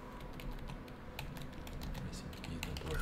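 Rapid, irregular clacking of computer keyboard keys pressed during an Elite Dangerous Horizons session, steady and fairly close with no talking.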